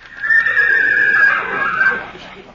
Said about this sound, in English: I can't ride that wild horse.